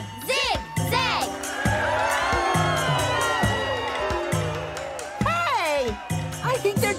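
A crowd cheers and whoops with children's excited shouts rising over a steady musical backing, the cheering swelling and falling across the whole stretch in an animated holiday children's show.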